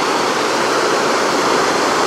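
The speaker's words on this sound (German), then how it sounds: "Daher auch dieses kleine Wehr, um nochmal Geschwindigkeit und Kraft ins Wasser zu kriegen." Water pours steadily over a small weir on a river during a hike in the Harz, a loud, close, unbroken rushing roar with no voices.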